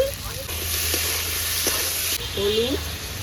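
Chopped tomatoes, onion pieces and salt sizzle in a hot pan for vetki fish curry, with a steady loud fry and brief stirring scrapes under it; the sizzle eases a little near the end.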